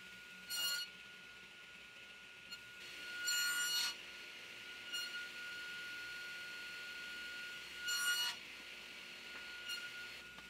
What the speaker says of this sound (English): it's much quicker and easier to round the tenons off with a rasp.